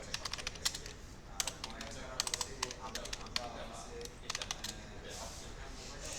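Keys clatter on a computer keyboard in quick bursts and scattered clicks, close and moderately quiet over a low room hiss, with pauses between runs of typing.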